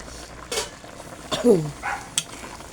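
A spoon stirs vegetables in a simmering coconut milk stew with smoked fish, giving a few soft close scrapes and clinks over a gentle bubbling bed, with a brief voice speaking between them.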